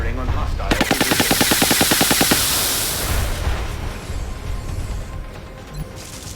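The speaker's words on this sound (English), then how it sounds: "Firing on hostile position." In the video game XCOM Long War, a long, rapid machine-gun burst of evenly spaced loud shots runs for nearly two seconds, followed by a rumbling, crashing wash of impacts that slowly settles.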